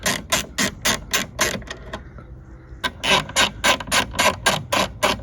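A hand ratchet clicks in quick, even strokes, loud and close, while loosening a taillight fastener on a 2018 Audi S5 B9 Sportback. The strokes pause briefly before a second run of clicks.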